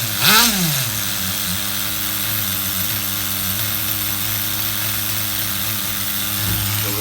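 An HPI RS4 nitro RC F150 pickup truck's small glow engine idles close by with a steady, even buzzing drone, after a quick rev at the start.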